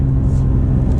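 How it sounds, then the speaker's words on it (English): The engine of a 2017 Acura NSX drones low and steady through a paddle upshift, a dense rumble heard close from the cabin, with no talking. "You hit that upshift paddle,"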